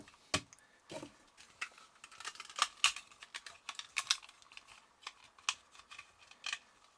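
Plastic transforming toy parts click, snap and pop as pieces are folded in and pushed out, a run of small sharp close taps at low volume with no talk.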